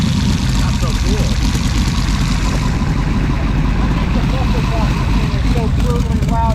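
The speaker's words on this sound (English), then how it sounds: "It's so brutally loud, you couldn't even stand being here." A vintage dual overhead cam, 4-valve Chevy 350 hot rod engine from 1971 runs at a loud, steady, rumbling idle throughout, with a faint voice briefly audible under it.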